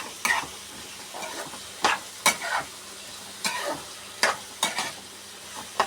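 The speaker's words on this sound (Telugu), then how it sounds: "పసుపు అవన్నీ వేసుకొని ఇలా గట్టితో కలియబెట్టాలి ఫ్రెండ్స్" Food frying in a pan with turmeric is stirred by a spatula, producing repeated scraping strokes at an uneven rhythm over a quiet, low sizzle, close and clear.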